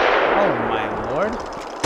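Gunfire in the video game Batman Arkham Asylum, a dense burst of rapid shots rattling loudly throughout, with a gliding electronic tone weaving under it and a sharp hit at the end.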